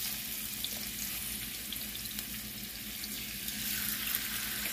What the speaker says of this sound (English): Now that my oil has been heated, I am gonna add my salmon.